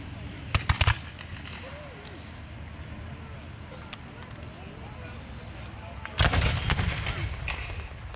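A bronze 10-pounder smoothbore cannon fires at a Civil War reenactment, a loud booming blast followed by a sustained rumble, with an earlier burst of sharp reports and crowd chatter in the background.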